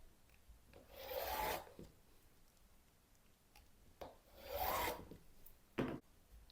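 Quilt fabric strips being cut into squares with a rotary cutter guided by a Stripology ruler, heard as two long scraping rasps and a short final cut separated by quiet pauses.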